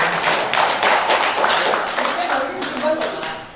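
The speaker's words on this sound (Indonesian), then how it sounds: "berikan aplaus untuk Bu Dr." Audience applause for a presenter at an indoor talk on preventing COVID-19, steady dense clapping filling the whole stretch, close and fairly loud, tapering slightly near the end.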